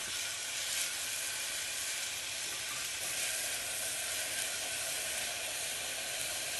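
Onions sizzle steadily in a pan on the stove, a soft, even hiss and crackle holding at a constant low level throughout with no talking.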